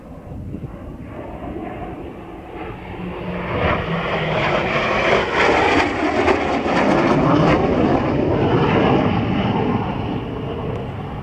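A Hawker Hunter F-58A jet aircraft roars past overhead at an airshow, its broad rushing engine noise swelling loud and then slowly easing, with no talking.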